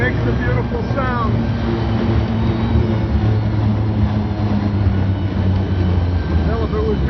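A 1917 La Bestioni Batmobile with a 16-liter, 1,013-cubic-inch engine and 24 plugs runs steadily, its deep, continuous rumble loud and close for the whole stretch, with vehicle noise and faint voices mixed in.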